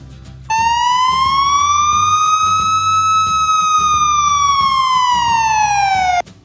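A police car siren sounds one loud, steady wail that climbs gently and then sinks, clear and close, with no talking around it.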